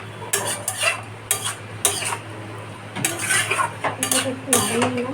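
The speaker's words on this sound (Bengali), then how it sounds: "দিয়েছে এবার এটাকে আমি নাড়াবো যাতে ঘাটা মোটা হয়" Papaya and potato curry is stirred in a pot with a metal spoon, giving repeated scraping clinks in irregular bursts over a low simmering sizzle, close and fairly loud.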